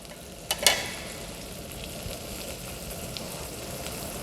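Butter-sautéed mirepoix and garlic sizzle steadily in a pan after a brief sharp clatter of vegetables going in, a soft continuous frying hiss that carries on alone without talk.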